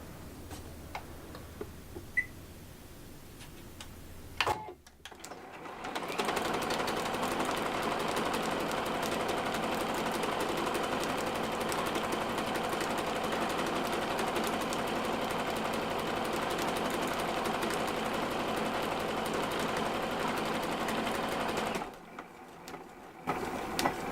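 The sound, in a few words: sewing machine stitching the word happy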